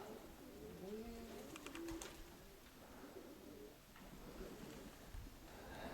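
Pigeons in a Konotop-area loft coo in low, throaty rolling calls over the first two seconds, with a brief burst of wing flapping, then a steady background hum and scattered faint bird sounds continue.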